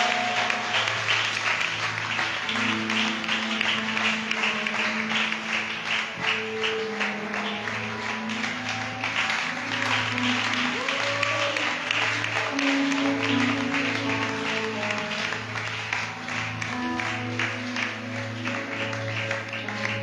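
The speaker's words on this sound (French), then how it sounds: "On va acclamer le Seigneur." A church congregation applauds to acclaim the Lord during a worship service, steady rhythmic clapping sustained for about twenty seconds over a held musical drone, with voices mixed in the background.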